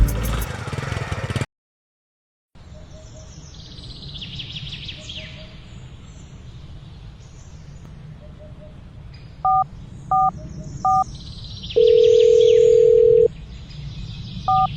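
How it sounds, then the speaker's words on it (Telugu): A phone handles an incoming call, with a series of short electronic beeps followed by a longer sustained tone, heard over faint outdoor ambience with distant bird chirps in a village setting. "కాల్ వచ్చింది, చూసుకో."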